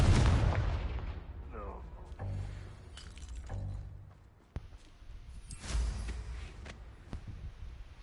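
A Confringo fire spell explosion in the Hogwarts Legacy video game: a loud opening burst with rumbling booms and crackling impacts, with a voice speaking over the game sounds.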